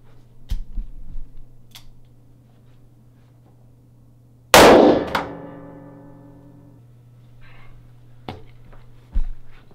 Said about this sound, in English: Now we'll hit it one last time with the 44 mag, 240 grain, jacketed hollow point.